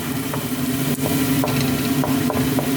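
Garlic hits a pan of already sautéed onion for a macaroni dish, a loud steady close sizzle with a low hum beneath and soft periodic scrapes of stirring.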